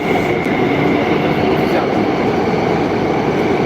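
Continuous loud rumble and roar of a Warsaw metro train riding underground, heard from inside the carriage with steady rolling noise throughout.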